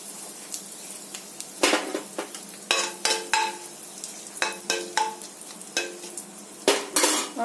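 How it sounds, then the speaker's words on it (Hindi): Fenugreek seeds, bay leaf and a pinch of asafoetida tempered in hot oil for an Indian suran (yam) curry, with a steady sizzle under repeated sharp clinks and scrapes of a spoon stirring against the pan. "मैं तड़के के लिए डाल रही हूँ मेथी दाना और तेज पत्ता।"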